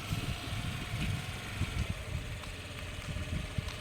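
A scooter engine hums steadily at a low, even idle-like drone throughout a scooty driving lesson, staying fairly quiet and continuous with faint background noise and no talk.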